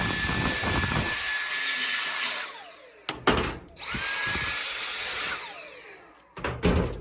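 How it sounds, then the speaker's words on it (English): A Dyson cordless vacuum sucks lint from a Samsung clothes dryer, a high whining roar that spins up twice, runs for a couple of seconds each time and winds down, with clattering handling knocks between bursts. "I'm going to grab my handy dandy Dyson, suck that lint out of there."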